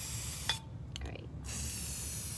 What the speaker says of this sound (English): I'm just taking my spray paint and creating the pattern that I want.